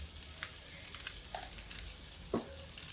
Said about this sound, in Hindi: अब इसको हम गोल्डन ब्राउन होने तक फ्राई करेंगे